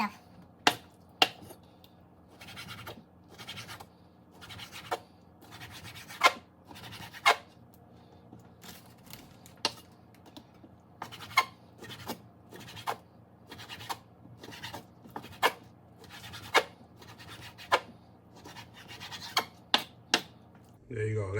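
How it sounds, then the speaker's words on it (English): A knife slices steak into thin strips, each cut landing as a sharp, close tap on the board at irregular intervals of one to two seconds, with soft rubbing and quiet handling sounds between cuts. "That's your meat sliced into thin strips, like so."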